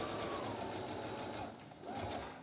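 Sewing machine stitching a fabric face mask toward a corner, a close, continuous rapid mechanical whir that dips briefly before resuming.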